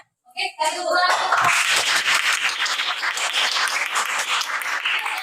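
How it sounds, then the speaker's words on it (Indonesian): A group of students in a classroom break into applause after a few scattered opening claps, with dense clapping that carries on steadily to the end amid faint voices. "Oke, kasih tepuk tangan."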